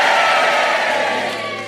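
A studio audience cheers together on a radio confessions show, a loud dense roar of many voices that holds steady and then fades slightly.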